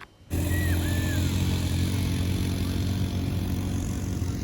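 A motorbike on a desert safari ride near Sharjah drones with a steady, loud engine note that starts abruptly after a brief quiet moment and holds constant without talk.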